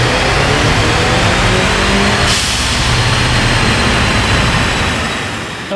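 A 2014 Ford Fusion with a 2.0L engine roars at steady high revs during a dyno baseline pull, a loud sustained drone filling the whole clip and easing off slightly near the end.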